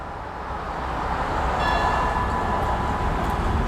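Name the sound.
train 210 departing Ban Takhli station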